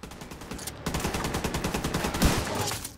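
Rapid automatic gunfire in the video game The Division 2, a dense, continuous burst of loud shots with one heavier crack near the end.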